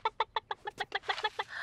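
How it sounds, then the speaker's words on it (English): Cartoon farm chickens cluck in a quick, close run of about a dozen sharp, evenly spaced clucks, with no talking. "I'm looking after Moo's chickens."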